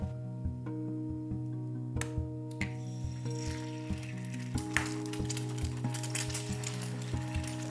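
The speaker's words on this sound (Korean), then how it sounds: "달걀 후라이를 해줍니다" An egg frying in cooking oil in a small egg pan sizzles steadily up close, with a brighter crackling spatter building partway through and faint periodic ticks underneath.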